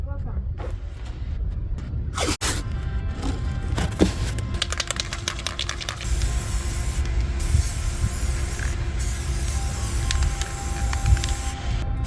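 Hissing bursts of spray paint as a first coat goes on, interrupted by short pauses and clicks, with a faint tonal hum and people talking in the background.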